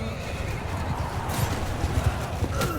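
Cavalry horses thunder across a Bannerlord battlefield, a dense patter of hooves with neighs and whinnies rising over the clamour of the fight.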